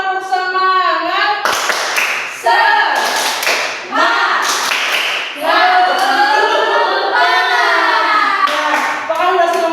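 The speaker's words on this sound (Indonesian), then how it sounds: "yuk kita tepuk semangat dulu yuk" A primary school class performs a rhythmic 'tepuk semangat' clapping chant, sharp sets of hand claps punctuating children's sung chanting in a close, lively classroom, with bursts of clapping recurring through the phrase.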